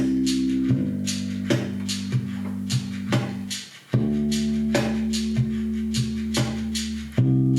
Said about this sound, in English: So in this case, the bass sounds like this.